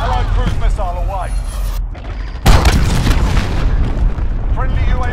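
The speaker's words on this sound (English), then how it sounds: "cruise missile away" A loud cruise missile blast booms in a Call of Duty Modern Warfare multiplayer match, a heavy low rumble after a brief lull, with game radio voices talking before it.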